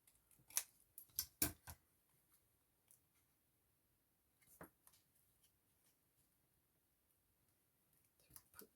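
Scissors snip paper in a few quick, quiet cuts clustered together, then pause before another brief cut and a couple of soft clicks at the end, close and isolated in a hushed room.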